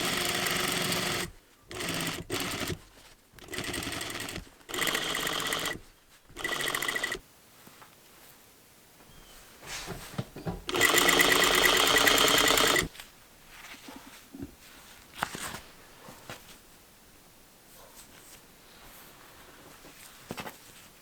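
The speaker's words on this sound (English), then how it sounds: "Understitching just means stitching the seam allowance to the lining 1/16 away from the seam." A sewing machine understitches a seam allowance to a dress lining in a series of close, loud bursts of stitching, several short runs and then a longer one, separated by pauses with faint handling noise.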